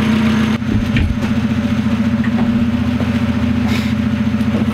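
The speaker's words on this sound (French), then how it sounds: "je t'aurais bien coupé le moteur, mais là, je vais le laisser tourner" A Citroën Saxo's engine, being brought back from a wreck, idles steadily and loudly up close with a low, even hum and slight vibration, a few faint knocks around it and no talk.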